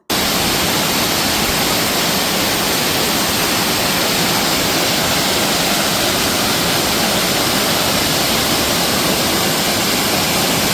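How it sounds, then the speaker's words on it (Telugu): A loud, constant roar of Kothapalli waterfall, dense and unbroken from start to finish, with no voices. "చాలా బావుంది వాటర్ ఫాల్స్ కూడా."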